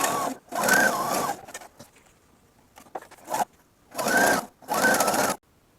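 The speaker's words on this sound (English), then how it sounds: "So we're going to go ahead and sew both of these rows together." A sewing machine stitching pieced quilt block rows together, running in short loud bursts of rapid mechanical whirring separated by pauses with faint handling sounds between.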